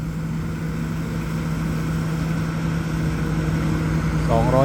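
A big twin-turbo Hino diesel engine on a new rice combine harvester runs at a steady, loud drone with a constant low hum, and a voice starts talking briefly at the very end.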